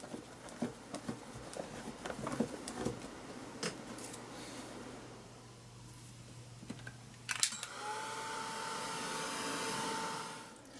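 An electric heat tool dries the wet paint and medium on a mixed-media art journal page, its steady fan hum swelling after scattered tapping and handling noises; it runs continuously near the microphone with no one speaking.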